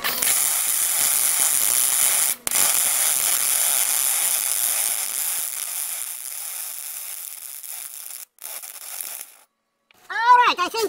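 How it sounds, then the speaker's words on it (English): Welding an aluminum bumper extension for a ProMaster van, a steady crackling arc hiss for several seconds that cuts out briefly, then fades and stops near the end. "Now I flip it over and making other side welding."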